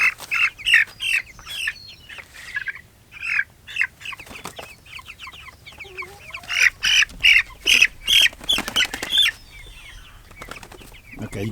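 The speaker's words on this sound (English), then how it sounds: "get these chickens and throw them back over" Chickens being caught and tossed over a fence squawk loudly in repeated bursts, with flapping wings and clucking between the cries, close and agitated throughout.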